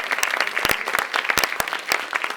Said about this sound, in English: Let's give these folks a round of applause as well.